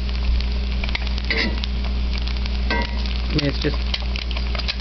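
An egg frying in olive oil crackles and sizzles steadily up close, with sharp pops and spatters scattered through, while someone talks briefly over it.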